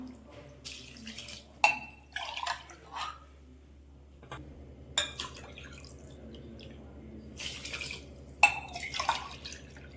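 Water splashes and drips into a metal pot in uneven bursts while making vegetable biryani with jeera samba rice, with light clinks of cookware and a faint hum underneath.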